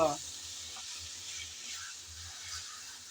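Pre-fried chicken pieces stir-fried in a pan with spices and winter vegetables, giving a soft, steady sizzle with faint scraping stirs, close and fairly quiet, no talking.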